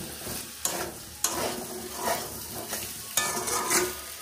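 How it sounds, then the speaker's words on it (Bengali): Fried potatoes being stir-fried with spices in a pan for a vegetarian aloo dum, a soft sizzle under intermittent scraping strokes and a few sharp clinks of the spatula, close and moderately quiet, no voices. "মশলার সঙ্গে আলুগুলোকে আরো একটু ভেজে নিলাম"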